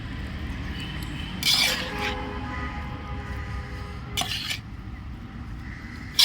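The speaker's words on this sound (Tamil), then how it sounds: "தேவையான அளவுக்கு மட்டும் எடுத்து இப்போ நம்ம கிண்டுறோம் பாருங்கள்" Lemon rice stirred in a pan, with a low scraping bed and two bright clattering bursts of a spoon against the metal, close up and with no talking.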